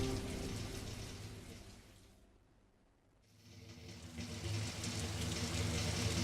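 Steady rain falls as an audiobook sound effect, a dense broadband hiss that fades out briefly in the middle before swelling back louder and continuing without pause.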